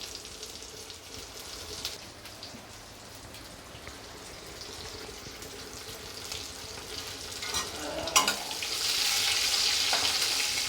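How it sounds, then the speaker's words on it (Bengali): Chopped onions fry in hot oil in a kadai, a continuous close crackling sizzle with occasional stirring scrapes that grows louder and brighter toward the end, with no talking. "একই তেলে দিলাম মায়ের কাটা পেঁয়াজগুলো দিয়ে দিলাম"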